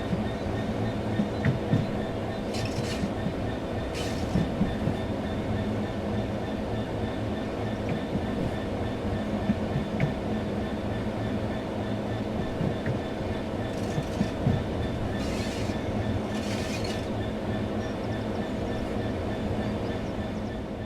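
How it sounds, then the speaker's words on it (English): Diesel locomotive in Train Sim World coasting on level track with throttle at zero, a steady rolling rumble of wheels on rails with faint periodic clicks, continuous and fairly close, no talking. "The train will then coast on level ground, and the train will only slow down very gradually."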